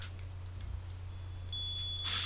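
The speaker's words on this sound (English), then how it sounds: "that fire alarm is only in the TV show. It's not actually happening." A fire alarm from a television show inside The Sims 2 emits a thin, high, steady electronic tone that starts partway through and keeps sounding at moderate volume over a low hum.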